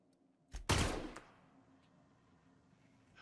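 A sharp video game gunshot bursts out with a quick echoing tail, a single loud blast in an otherwise quiet moment.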